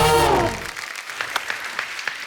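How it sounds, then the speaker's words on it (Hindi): Studio audience applause on a TV comedy show as actress Kriti Sanon is welcomed, with a voice briefly at the start before steady, fairly faint clapping carries on alone. "जोरदार तालियां कृति के लिए और हमारे साथी कलाकारों के लिए"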